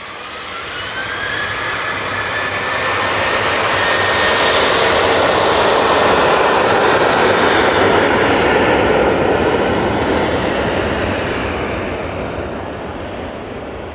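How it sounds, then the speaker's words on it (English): A Vueling airliner arriving at Manchester Airport, its jet engine roar swelling as it approaches overhead and fading away, loud and steady with no voices. "Get the arrival of the Vueling"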